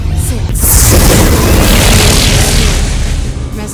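A resonator being destroyed in the mobile game Ingress Prime gives a loud, sustained booming blast that rolls on for several seconds as a dense explosive burst.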